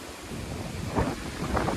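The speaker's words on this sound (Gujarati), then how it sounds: "પવનનો વેગ પણ સારો છે" Gusty wind roars and buffets the microphone in low, uneven surges, with no voices.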